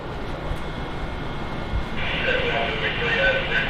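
A Washington, DC area metro train draws into a station platform. A low rumble swells into a brighter rushing roar partway through, while a recorded announcement voice plays over it.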